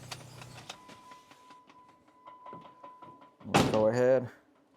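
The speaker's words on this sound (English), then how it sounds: "If you hear the knocking noise in the background, it is because there is an actuator under the dash that is going crazy" An actuator under the dash of a 2011 Jeep Wrangler knocks in a quick, steady series of light ticks with a faint tone running under them, then a voice speaks briefly up close.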